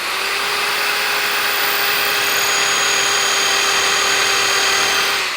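A Bosch GSB 600 electric drill runs in normal drill mode, boring a hole with a 6.5 mm metal bit, a loud steady high whine from start to finish with no talk over it.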